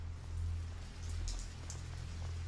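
Steady rain hisses continuously in A Plague Tale: Innocence, a dense even wash of drops with a low droning hum beneath it and no voices.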